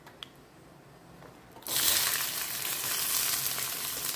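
Onions dropped into hot oil already sizzling with a tempering of curry leaves and dried red chilli erupt into a loud, steady frying hiss after a quieter start.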